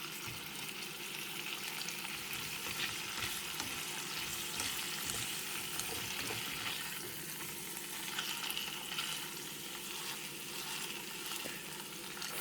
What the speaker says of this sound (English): Frying chicken is really difficult.